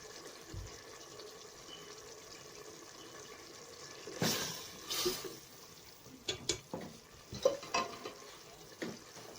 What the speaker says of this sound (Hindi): हम अच्छी तरह से भूनेंगे दाल को